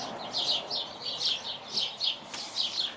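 Birds sing outdoors in a quiet, fairly distant setting, repeating short bright chirping phrases about twice a second over faint background hiss.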